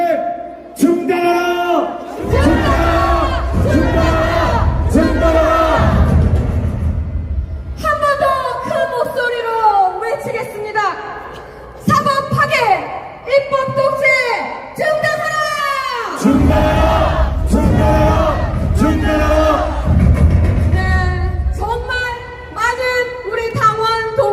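A large crowd at a street protest against Lee Jae-myung chants slogans in unison, loud repeated bursts of massed voices alternating with a single voice leading over a loudspeaker.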